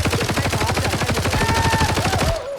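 Rapid automatic gunfire from Arena Breakout, a tactical shooter, in a dense steady burst lasting over two seconds before cutting off, with a faint tonal whine near the end.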